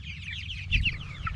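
Cornish cross chickens clucking close by in a short run of soft, overlapping clucks, with no voices.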